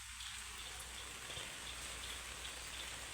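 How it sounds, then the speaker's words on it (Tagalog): Heavy rain pours down in a continuous, even hiss of dense drops drumming on surfaces, steady throughout with no voices. "Umuulan talaga. Lakas. Lakas ng ulan, no?"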